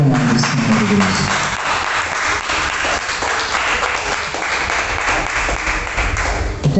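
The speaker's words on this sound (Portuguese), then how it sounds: "Aplauda o nome do Senhor" A standing church congregation claps together in worship, a full, continuous wash of many hands ringing through the sanctuary with some low thumps beneath, steady for several seconds.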